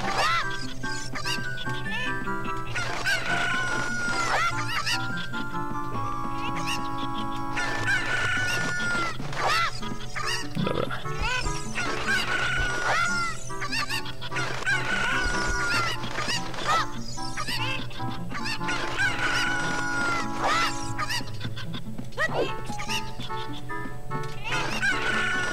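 Cuccos, the chickens of the Zelda: Ocarina of Time video game, cluck and crow repeatedly over steady game music, with a voice talking throughout.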